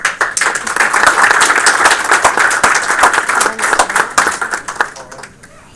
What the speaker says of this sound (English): Another round of applause for all of these.